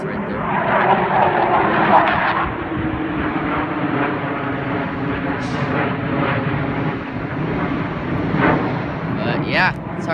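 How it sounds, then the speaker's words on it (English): Fighter jets pass overhead, a loud, continuous broadband roar that swells and fades across the whole stretch, heard outdoors from the ground. "Fighter jets right there."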